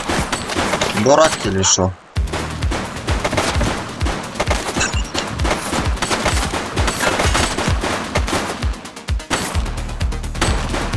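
Rapid automatic gunfire rattles almost without pause in The Precinct video game, dense bursts of shots running the whole time with a brief gap near the start, while someone speaks over the shooting.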